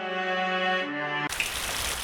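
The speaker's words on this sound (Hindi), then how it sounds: "बाहर तेज बारिश हो रही थी" Heavy rain falling outside at night, a steady dense hiss that takes over sharply after about a second of sustained musical tones, continuing loud and even to the end with no voices.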